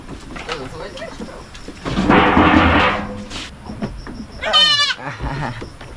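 Goat bleats from a farm animal being rescued, a strong wavering bleat near the end following a burst of noise, with people talking throughout.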